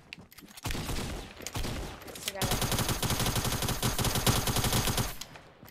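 Rapid shotgun and SMG gunfire in the Fortnite video game, a dense fusillade of loud bursts that starts sparse then turns into a continuous rattling volley for several seconds.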